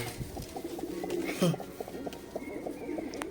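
Fancy pigeons coo softly inside a loft, giving repeated low throaty calls with a few chirps, while a person talks over them.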